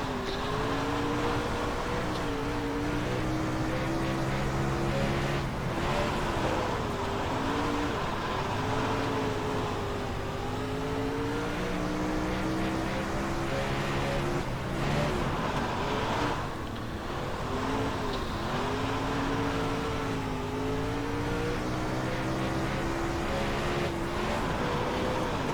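In iRacing, a C class dirt race car's engine at Grove drones continuously, its pitch swelling and dipping as the car revs up and backs off through the laps.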